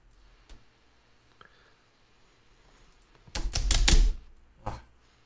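A burst of rapid computer keyboard typing, close and crisp, arrives after a few isolated clicks and quiet moments, followed by one more short tap.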